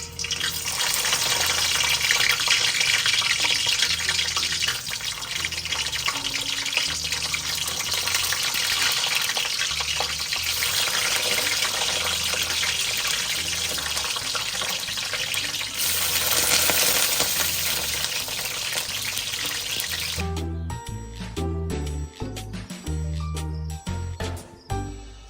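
Eggplants fry in hot oil, giving a loud continuous sizzle and crackle that runs for most of the clip before breaking into scattered clatters and pops near the end.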